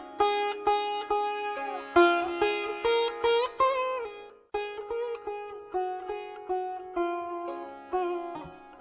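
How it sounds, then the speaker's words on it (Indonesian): A sitar plucks a twangy melody with bright, buzzing notes and bending pitch slides, each pluck decaying in a steady rhythmic pulse over a quiet low drone, with no voices. "Sitar."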